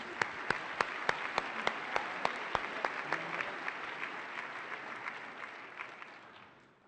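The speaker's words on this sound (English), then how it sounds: "Let's give them another round of applause." Audience applause at an awards luncheon for a business plan competition, a steady wash of many hands clapping with sharp individual claps standing out, gradually thinning and fading toward the end.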